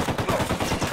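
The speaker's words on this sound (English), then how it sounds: "Opening fire." Rapid automatic gunfire in the video game Ghost Recon Wildlands, a dense burst of close, loud shots in quick succession filling the whole moment.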